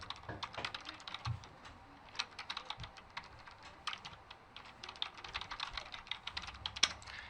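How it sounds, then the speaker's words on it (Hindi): Soft, rapid keystrokes tap on a computer keyboard as text goes into a new file, a faint, steady patter of close clicks. "अब न्यू फाइल के अंदर मैं कुछ टाइप करूंगा"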